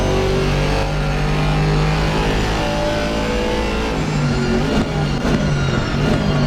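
A Mercedes GT4 race car in Assetto Corsa Competizione, racing mid-pack at Zolder, gives a loud, sustained engine drone with shifting pitch as it holds revs, steady and close throughout with no talking.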